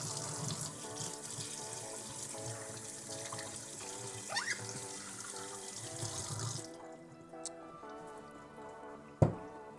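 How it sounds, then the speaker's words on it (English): Tap water rinsing espresso machine parts at a sink, a steady running stream with clatter of parts that cuts off partway, followed by quieter drips and a sharp knock near the end. "come over to my coffee grounds disposal, and then give it a quick rinse there"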